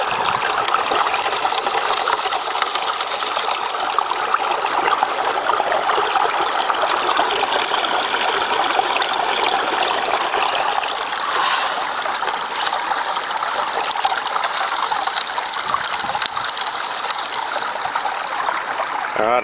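Water rushes and trickles steadily through a gold prospecting sluice at Reedy Creek in north-east Victoria, a continuous close-up flow with no voices.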